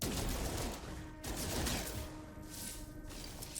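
Weapon fire from No Man's Sky, aboard a derelict ship, pours out in rapid dense bursts with a short pause between them, loud and close throughout.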